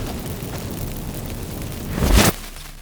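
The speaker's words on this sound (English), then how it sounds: "Get ready for the magic fireworks." Magic fireworks burst from activated incense in The Witcher 3: Wild Hunt, a rumbling fizz over a steady noisy bed that swells into one loud, sharp whooshing blast near the end, then cuts off.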